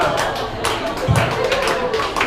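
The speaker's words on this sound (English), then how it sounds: "All right, I'll take a slow clap." Scattered, slow clapping from a comedy club audience sounds over a few seconds, with sparse individual claps and a dull thump amid room noise.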